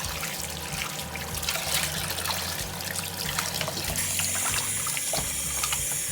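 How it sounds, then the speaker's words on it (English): Warm water runs from a kitchen tap over raw meat in a sink, a continuous close splashing trickle that shifts in texture as the flow hits the meat, with a brighter hiss joining near the end. "I still use nice warm water over it"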